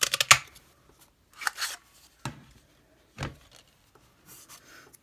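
Scissors cut through paper for a handmade card, a handful of short crisp snips and rustles separated by quiet pauses, close and fairly soft.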